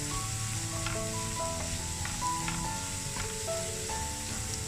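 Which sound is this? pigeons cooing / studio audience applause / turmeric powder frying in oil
turmeric powder frying in oil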